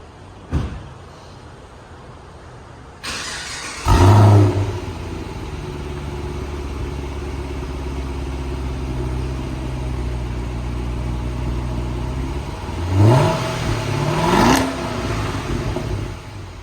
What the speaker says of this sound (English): all right, let's fire it up. Hear what it sounds like